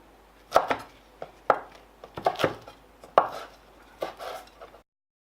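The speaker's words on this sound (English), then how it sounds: "This is not easy to cook, so I will slice them more." A knife slices through the tough spine of a savoy cabbage on a board, giving about a dozen crisp, close chops in irregular bursts with short pauses and no talk.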